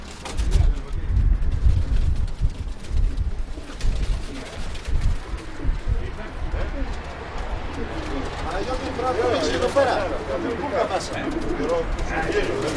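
Show pigeons of a club in Volos cooing and fluttering as they return from flight on a windy day, a steady outdoor bird din with wind rumble, wing and foot movement throughout.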